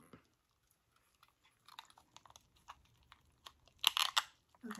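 Mango-flavored hard candy chewed and cracked near the mouth, with sparse soft crunches building to a few loud, sharp cracks toward the end, no talking.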